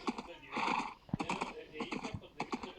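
Horses in a video game neigh and clop their hooves in short, quiet bursts, with some keyboard clicking.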